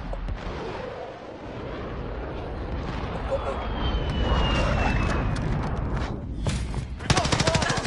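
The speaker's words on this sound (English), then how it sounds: "Allied cruise missile." An allied cruise missile strike in a military video game, a long loud rumbling blast with a steady roar under combat noise, ending in a fast burst of gunfire, with voices talking.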